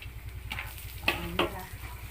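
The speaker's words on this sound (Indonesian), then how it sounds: "bawang merah dimasukkan, digoreng yang sudah ditambah sama bawang putih tadi sampai matang" Shallots tossed in with garlic sizzle steadily in a hot frying pan while making sambal for pecel lele, with a constant crackling hiss punctuated by a few sharp stirring scrapes.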